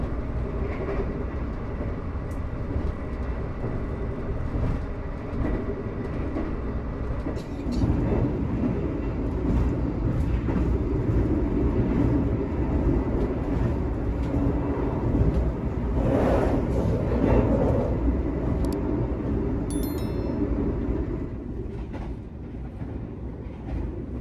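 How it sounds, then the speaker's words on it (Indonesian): An executive-class Fajar Utama Yogyakarta passenger train rolls steadily along the rails with a continuous low rumble and faint rhythmic clatter, a high whine rising partway through, heard from inside the carriage. "Kereta api Fajar Utama Yogyakarta berbelok ke kanan menuju lintas Purwokerto Kroya"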